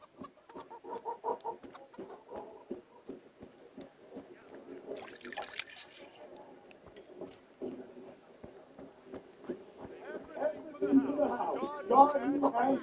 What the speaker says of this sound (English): Gonna take that chicken real quick.